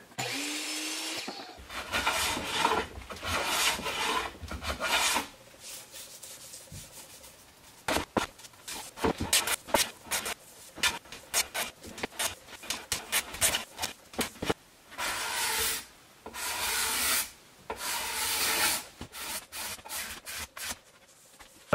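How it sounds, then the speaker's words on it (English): A hand plane and scraper trim a slightly proud glued wood piece on a reproduction 1850 fireplace mantle, giving loud repeated rasping strokes in bursts with short pauses, close by and without speech. "I'm gonna clean that up with a hand planer and a scraper."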